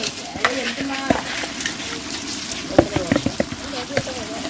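Beef biryani masala with rock salt being stirred in a hot pan, giving a light crackling sizzle and scattered spoon scrapes, with a person talking over it.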